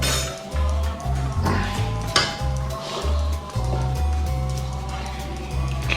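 Dishes and pots clink sharply over a low steady kitchen hum while broth is strained through a colander for maklube, with scattered clatters and light scraping close by.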